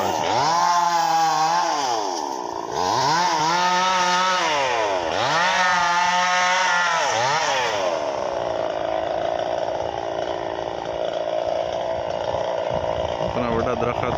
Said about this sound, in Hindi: आरा लगा हुआ है, आरा दरखत कटाई कर रहा है।